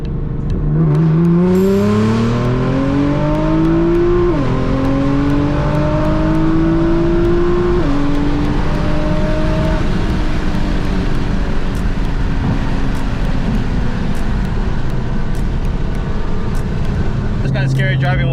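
A 600 wheel-horsepower Nissan GT-R launches hard from launch control, its engine rising in pitch through several quick upshifts into a sustained loud whoosh of speed and wind, close and continuous.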